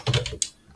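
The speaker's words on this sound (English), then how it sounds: "I'm just going to type metal" A quick run of several computer keyboard keystrokes, crisp close clicks in a short burst, ending with one sharper tap.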